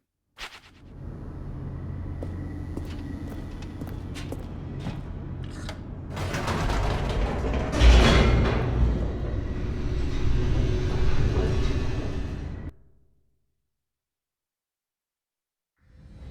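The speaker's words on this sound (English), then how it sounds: "The elevator raced downward, plummeting towards an unknown fate." An elevator in the video game The Stanley Parable drops rapidly with a loud, sustained rumbling whoosh that swells to a heavy thud midway and then cuts off abruptly into silence.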